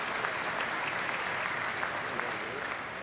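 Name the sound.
crowd applauding a curling shot at Fort Garry Curling Club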